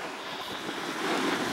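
Wind gusts across the slopes of Loveland Ski Area, a steady broadband rush that swells slightly near the end, with no voices.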